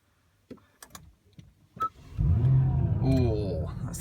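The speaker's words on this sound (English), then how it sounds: "that's the V6 engine kicking" A Honda NSX's V6 starts after a few clicks and switch sounds, catching with a sudden rise into a steady, moderately loud idle that settles and hums close by.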